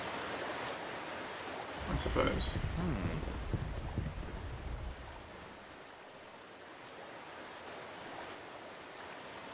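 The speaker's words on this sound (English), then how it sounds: "Oh, that's the waterfall." Waterfall in a Thief fan mission, a soft continuous rushing wash of water, briefly louder with some rumbling before settling to a faint steady hiss, with a short bit of speech.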